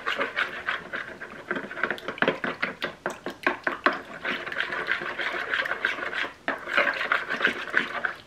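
Brown gravy mix whisked in a bowl, quick rhythmic metallic tapping and scraping strokes that speed up and slow down, close and fairly loud with no talking.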